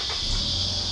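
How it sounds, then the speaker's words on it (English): A steady, high-pitched insect drone, continuous and even throughout, like cicadas buzzing nearby with no other sounds. "that buzzing sound you can hear in the background is cicadas"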